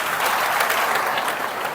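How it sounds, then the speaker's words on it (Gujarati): Steady, dense applause from a large audience filling a big hall, sustained at even loudness throughout, with no voices over it. "તાળી પાડો બેન માટે જરા."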